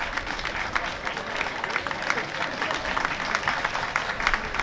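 Crowd applause welcoming the mayor onto the stage at a traditional performing arts festival opening in Narita, Japan, steady moderate clapping from a large audience heard at some distance, with faint voices underneath.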